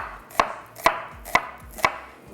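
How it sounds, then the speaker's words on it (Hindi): Knife slicing through onions on a cutting board, four evenly spaced crisp chops about half a second apart, close and clear with no talking. "1 से 2 आपने ले लेनी है प्याज, इनके हमने ले लेने हैं स्लाइसेस"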